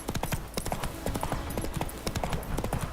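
Horse hooves clip-clop in a rapid, steady rhythm as a horse trots in The Witcher 3 video game, loud and close throughout with no talking.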